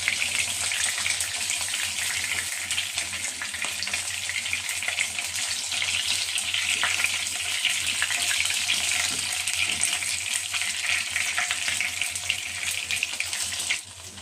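Banana flower pieces fry in hot oil with a continuous, even sizzle, close and alone, with no talk.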